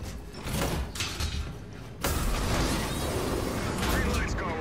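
A heavy door opens abruptly in a Call of Duty: Infinite Warfare military campaign mission, a loud sliding mechanical boom cutting in midway and leaving a dense rumble behind it, with voices and game ambience throughout.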